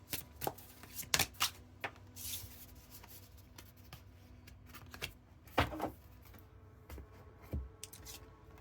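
Tarot cards being shuffled by hand, soft irregular riffles and slaps of card stock with faint rubbing between them, close and quiet with no talking.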